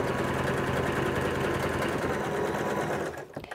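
A domestic sewing machine stitches synthetic fabric with polyester thread, a fast continuous mechanical whir close up that runs steadily for about three seconds before stopping with a few clicks.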